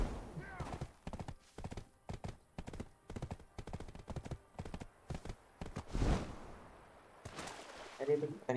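Horse hooves clip-clop in the video game Black Desert Online, a rapid, regular run of sharp hoof strikes with a heavier thud and a short pause near the end.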